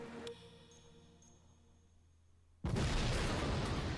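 An explosion in the video game Max Payne 2 erupts suddenly after a quiet stretch of faint tones, a loud broadband roar that stays sustained to the end.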